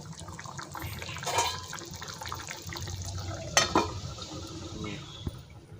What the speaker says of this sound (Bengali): মাছগুলো দিয়ে আরও কিছুক্ষণ ঢাকা দিয়ে ফুটিয়ে নেব।